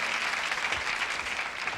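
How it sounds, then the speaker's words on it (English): Studio audience applause on a musical chairs game show, a continuous, even wash of many hands clapping at moderate level. "give ourselves a round of applause"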